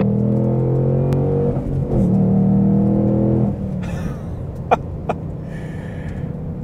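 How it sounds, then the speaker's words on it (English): Exhaust of a 2021 Ford Mustang Mach 1 or 2021 BMW M4 with manual gearbox, a loud steady engine drone that dips with a throttle blip while rev-matching into third, followed by quieter rumble and a few sharp clicks. "The exhaust sound in the back, sometimes a bit obnoxious"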